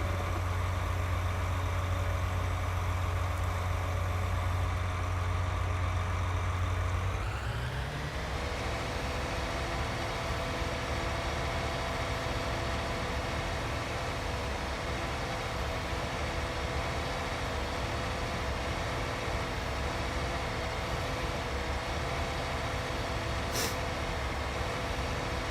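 Tractor engine in Farming Simulator 19, a loud steady idle-like rumble that shifts pitch as the machine starts driving, then holds a continuous drone, alone with no talk.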